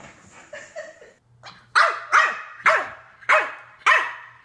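Dogs crowd onto a single dog bed at home, giving a short run of soft whines and yips and then five loud, sharp barks spaced about half a second apart, close by.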